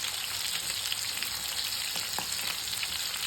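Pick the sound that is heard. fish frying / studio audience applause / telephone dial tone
fish frying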